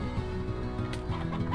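Stony hen clucking in the video game Slime Rancher, a steady run of soft repeated clucks layered over the game's continuous ambient music.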